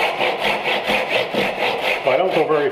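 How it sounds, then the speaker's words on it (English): A cross cut hand saw cuts into wood to begin a bridle joint, giving steady, rhythmic back-and-forth rasping strokes, close and fairly loud throughout. "I'll start with the cross cut saw."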